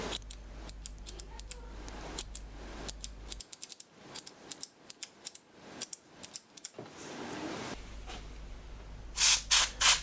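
Can of air duster sprayed in short bursts into the switches of an Allen & Heath ZED 24 mixing desk during repair. Sharp hissing blasts are heard, including a loud cluster near the end, mixed with clicks and mechanical handling noises.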